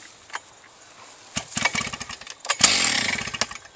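A Partner K12 cut-off saw on a cold start: a short burst of engine firing, then a louder, rough run of rapid combustion pulses lasting about a second, close and loud with no talking.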